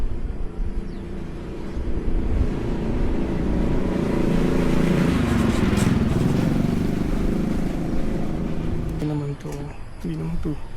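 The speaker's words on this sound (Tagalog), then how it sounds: "Daran pang isang motorsiklo" A motorcycle passes steadily across the old Victoria Bridge at Enggor, Kuala Kangsar, its engine a sustained loud drone that swells and lingers, with people talking nearby.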